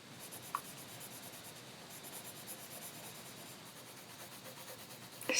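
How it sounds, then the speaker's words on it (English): Pencil colouring on paper, a soft continuous scratchy rubbing of graphite strokes held steady and close throughout, with a brief sharper tap near the start and a louder scrape at the end; no one talks. "Just enjoy the sound of the pencil."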